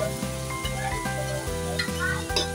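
Onion with a heaped spoonful of crushed ginger-garlic paste sizzles steadily in a hot pan for kaleji masala, a continuous close frying hiss with a few soft stirring scrapes and no talking.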